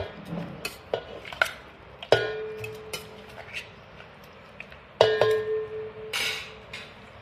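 Washed chicken goes into a metal pot for homemade biryani, with scattered clanks and scrapes of a utensil against the pot and two sharper ringing clangs, fairly close and without talk.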